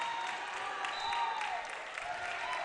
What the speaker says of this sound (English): West G's crowd comes to their feet for a standing ovation.